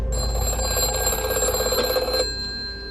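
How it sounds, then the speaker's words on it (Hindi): A telephone rings with a continuous bright electronic trill, close and steady for about two seconds before cutting off, leaving faint room noise. "ये टेलीफोन कैसे बज रहा है?"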